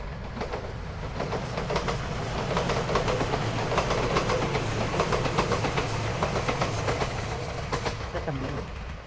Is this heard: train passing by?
yes